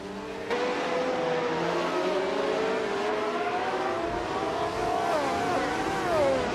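Race cars circling the tight turns of the Eastern Creek circuit, engines droning steadily with shifting pitch as they rev and jostle through the curves, sustained and fairly loud with no talk.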